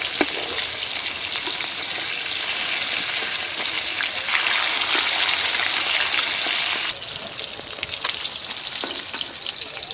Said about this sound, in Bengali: ভাজা হয়ে গেছে, উঠাই নিই।